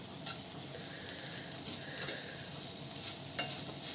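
Potatoes for a gavar-batata bhaji being stir-fried in a pan, giving a soft, steady sizzle with three sharp, spaced clicks of the spoon against the pan, close and fairly quiet.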